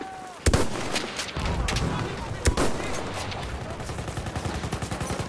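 Enemy machine gun fire in a video game battle against shock troopers: a couple of sharp single cracks, then a steady rapid rattle of shots building toward the end, mixed with voices and other combat noise.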